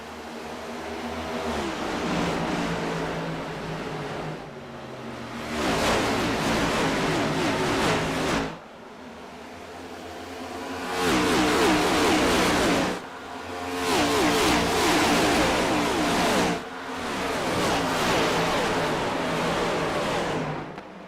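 Next Gen stock race cars accelerating at Homestead in a racing simulation, a loud, close engine roar climbing through gears in repeated long pulls. Brief dips between shifts break the sustained drone.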